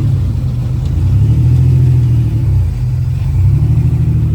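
A speed UTV rolls into a fabrication shop for frame crack repair, its engine a loud steady low rumble with slight revving as it pulls in, close by and with no talk.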